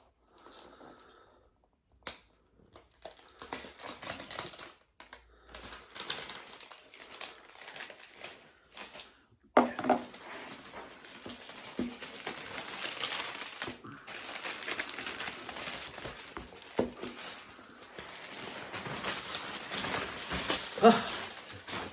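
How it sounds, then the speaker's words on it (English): Cellophane wrapping torn and peeled off a Star Wars Mace Windu Legacy lightsaber box, with close crinkling and crackling that comes in bursts and then runs almost continuously, alongside occasional soft taps and handling noises. "Oh, this cellophane's coming off anyway."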